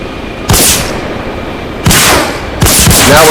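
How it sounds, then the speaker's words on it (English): Helicopter miniguns fire in Arma Reforger in three loud, dense sustained bursts, each a rapid roaring stream of shots, close and overwhelming with no voices. "Very nice miniguns. They do a lot of damage, especially on infantry."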